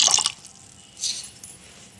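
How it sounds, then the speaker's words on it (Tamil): Water is poured over lentils in a pot for sambar in a home kitchen, with short, close splashing bursts at the start and again about a second later, followed by quieter trickles. "நம்ம தண்ணி ஊற்றி இப்போ பருப்பை வேக வச்சுருக்கோம்"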